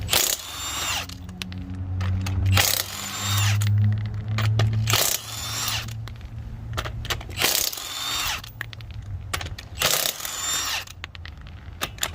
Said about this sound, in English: I'm using a Milwaukee impact with a 3/4 inch socket